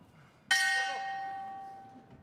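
A round bell rings once at a youth world boxing championship in Kielce, giving a sharp, bright strike that rings on and slowly fades over about two seconds, heard alone.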